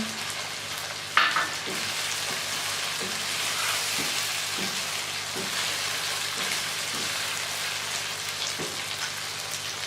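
Green chilies go into a chicken karahi cooking in tomato paste, and a steady close sizzle follows, broken by a sharp clank at the start and then regular stirring scrapes about every second.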